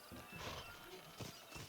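Horses at a wagon race in the Red Dead Redemption video game, with a snorting whinny and clip-clop hooves, fairly faint amid a busy outdoor game ambience.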